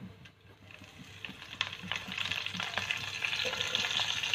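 Curry leaves and urad dal fry in hot oil for an Onam sadya koottu curry. A quiet crackling sizzle swells gradually, with light stirring taps over it.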